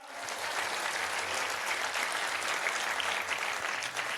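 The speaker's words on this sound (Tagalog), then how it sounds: "Isa pang malakas na palakpak." Church congregation claps in a steady, sustained round of applause during an Easter sermon, a moderately loud wash of many hands with faint background sound and no talk over it.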